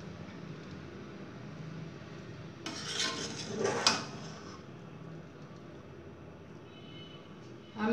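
Chicken BBQ biryani stirred and mixed in a pot, with a few scraping, clinking spoon-against-metal sounds bunched in the middle over a low steady hiss.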